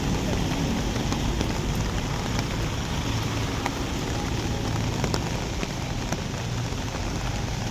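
Steady heavy rain falls outdoors in a flooding street, a dense continuous hiss with scattered drop taps, loud and constant throughout.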